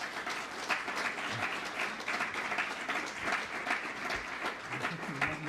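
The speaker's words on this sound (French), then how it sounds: "que je vous demande d'applaudir chaleureusement" Warm audience applause fills a hall for a guest being introduced at a presentation event, a steady dense wash of many hands clapping throughout at moderate level.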